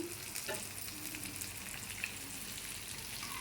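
Small fish fry slowly in a pan over a low flame, giving a soft, continuous sizzle with faint crackles throughout, quiet and close, with no talking.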